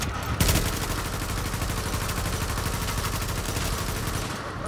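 Dense, continuous automatic gunfire in the video game The Division, a sustained loud rattle of rapid shots with no break, opening with one heavier report.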